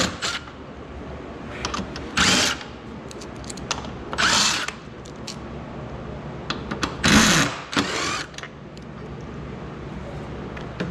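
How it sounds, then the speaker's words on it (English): A power driver runs in several short bursts removing bolts from the top of a car's grille area during a headlight install, with clanks and handling noises between the bursts. "So there's 4 bolts on top that Chad will take out"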